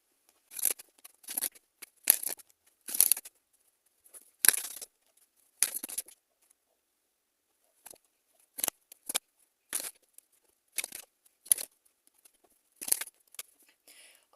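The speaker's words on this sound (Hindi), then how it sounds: "चलिए कुछ कार्ड्स लेते हैं।" Tarot cards are shuffled and drawn in quiet, crisp bursts of papery flicks and snaps, a dozen or so short clusters separated by silence.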